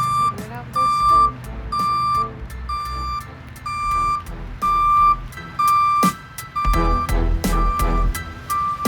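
A tow truck backs up with its reversing alarm beeping in a steady, evenly spaced series, clear and close, over a low engine idle.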